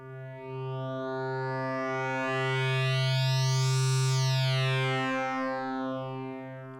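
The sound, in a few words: wave folding oscillator on Cre8audio East Beast synthesizer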